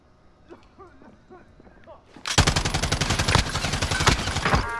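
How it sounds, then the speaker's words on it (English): Rapid automatic gunfire bursts out loud in Call of Duty Warzone, a dense, sustained stream of shots following a quieter opening with a few voices talking. "Someone else is shooting him."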